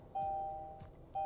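A Kia Ray sounds its startup chime as the car is started: two clear electronic tones, one held briefly and then a second beginning, clean against a quiet cabin.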